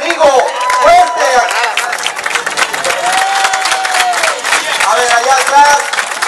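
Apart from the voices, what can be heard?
crowd applauding loudly at office inauguration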